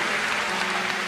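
A church congregation applauds during a sermon: a dense, steady wash of clapping from many hands, sustained evenly throughout with no voices standing out.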